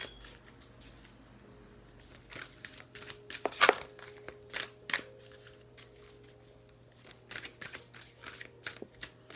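A large deck of tarot cards being shuffled in bursts of riffling and flicking, with short pauses between, fairly close and moderately quiet over a low steady hum.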